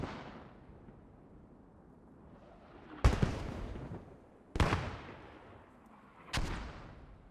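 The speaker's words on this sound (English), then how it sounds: "No matter where he runs, mortars are following him." Three heavy mortar explosions in the Post Scriptum video game, each a sharp loud blast with a rumbling decay, spaced a second or two apart over a quiet battlefield backdrop.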